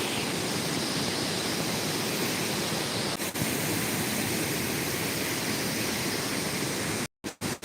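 Waterfall and river stream at the summit of Luahan Doi, a steady, full broadband rush of falling and flowing water, loud and close throughout with a brief dip near the end.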